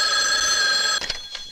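An old-fashioned telephone bell rings loudly and steadily for about a second in the 1979 horror film When a Stranger Calls, then cuts off into a couple of faint clicks.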